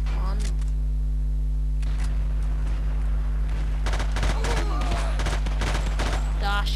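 Bursts of rapid gunfire and single shots in Battlefield 2, loud and close, arriving in clusters after a quieter opening, with a voice talking over part of it.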